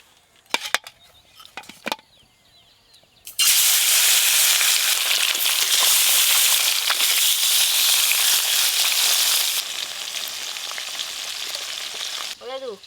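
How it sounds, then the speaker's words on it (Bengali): Small tul river fish dropped into hot oil, a loud dense sizzle that erupts after a few quiet knocks and carries on steadily before easing slightly near the end, with no talking. "তুল মাছগুলো প্রথমে ভালো করে ভেজে নেব।"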